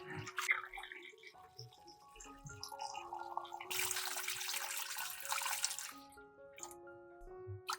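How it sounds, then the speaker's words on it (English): Water pours from a tap into a pot of dirty sweet potatoes sprinkled with baking soda, a splashing gush that swells in the middle, amid light clinks and soft kitchen sounds. "Then pour water over them."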